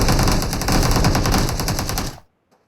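Sustained rapid gunfire in a battle-royale match, dense and loud for about two seconds before cutting off abruptly into near silence, with one faint trailing shot.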